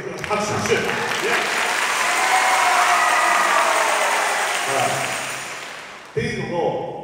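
Applause from a concert audience at a joint school pops festival, a broad, sustained wash of clapping that swells, fades over several seconds, then gives way to someone speaking.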